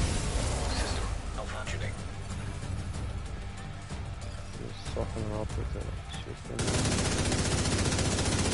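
A rapid-firing gun in The Division 2 lets out dense, fast bursts of shots with brief pauses for reloading. Game effects and a player's talk mix in beneath the loud shooting.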